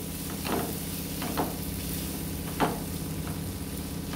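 Cut onions sauté in a pan for a masala dosa filling, giving a steady, moderate sizzle with a few soft stirring scrapes spaced through the clip and no voices.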